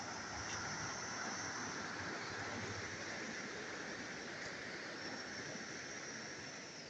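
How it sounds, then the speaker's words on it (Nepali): Khahare stream at Godavari flowing in a steady, broad rush of water that stays constant and close throughout, with no voices over it. "ल हेर्नुहोस् खोला, खहरे खोला, गोदावरीको खहरे खोला"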